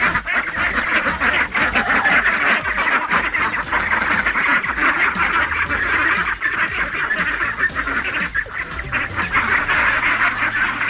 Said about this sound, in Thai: เป็ดไข่อายุ เก้าสัปดาห์ครับ